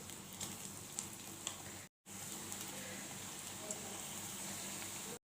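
Green-chili chicken pieces frying in hot oil, a constant close crackling sizzle broken by a brief cut, then resuming steadily with occasional pops.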